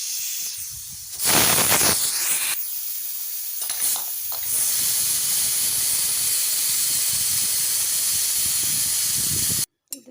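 A pressure cooker with chana and moong dal and green squash vents steam in a loud, steady hiss that starts in bursts, then holds continuously for several seconds before cutting off abruptly, with no talk over it.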